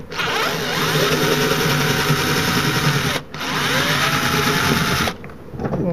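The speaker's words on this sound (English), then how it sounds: "Now I'm just going to remove the screw." A power drill whirs steadily in two long close bursts with a short pause between, backing the screw out of a hollow-wall molly bolt anchor.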